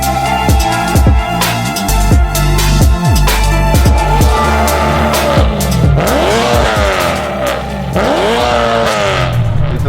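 A BMW E92 M3 fitted with an Armytrix valvetronic exhaust revs hard and close, throwing out a rapid series of sharp throttle blips whose pitch climbs and falls again and again over a loud, continuous engine roar.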